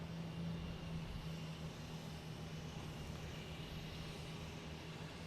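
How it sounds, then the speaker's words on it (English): A British Airways airliner rolls down the runway for takeoff at Boston Logan, heard as a faint, distant, steady jet roar and rumble with no voices over it. "British Airways is on the roll here"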